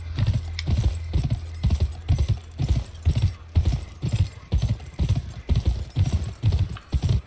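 A horse gallops steadily in the PS2 game GUN, its hooves beating a loud, even clip-clop rhythm from start to finish.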